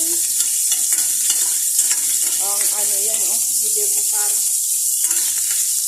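Vegetables and shrimp sauté in hot oil in a pan with a loud, steady sizzle and hiss, spoon or spatula scraping and stirring now and then, while a voice talks underneath.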